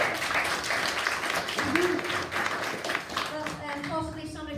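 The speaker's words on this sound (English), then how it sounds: "Let's give him a big round of applause." A church congregation at a Sunday service claps in a dense burst of applause, which thins out as a voice begins speaking over it near the end.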